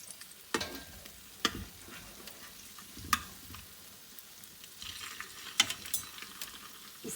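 Cheese French toast fries quietly in a pan, a soft low sizzle broken by several sharp clacks and scrapes as the slices are flipped.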